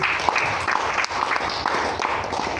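A church congregation at a Sunday worship service claps together in a dense, steady round of applause, close and lively, with some voices mixed in.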